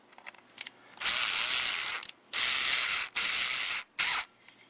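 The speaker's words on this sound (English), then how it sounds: "We can take our drill and tighten it down." A power drill drives a screw into a metal nut on a printer build, whirring in three loud bursts and one shorter burst, separated by brief pauses, close up and without talk.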